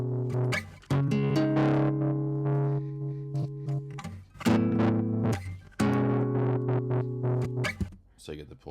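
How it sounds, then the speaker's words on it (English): A synth tone runs through a tremolo effect from a free audio plugin, sustained chords that pulse and cut in and out in a choppy rhythm, with someone talking over it. "You can hear it's like a tremolo."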